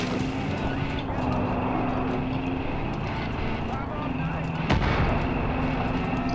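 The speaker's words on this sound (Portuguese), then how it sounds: "Tô atirando aqui, eu acho, hein." Weapons firing in Far Cry 5, a dense, continuous rumble of gunfire and booming blasts with a vehicle engine droning underneath and one louder burst near the end, while someone talks over it.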